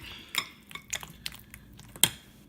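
Macaroni salad dressing of mayo and vinegar is stirred in a bowl, with sparse clinks and taps of a utensil against the dish and a soft wet squish between them.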